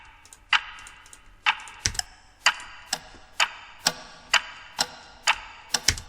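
Several layered clock-tick effects from an electronic track, sounding as a busy run of crisp, closely spaced ticks in a steady, slightly irregular rhythm, loud and alone.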